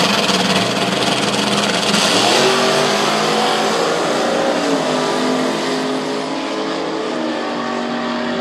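A drag racing car at the Pontiac Nationals accelerates down the strip, a loud engine roar climbing in pitch and then easing as it pulls away, steady and dominant with no talk over it.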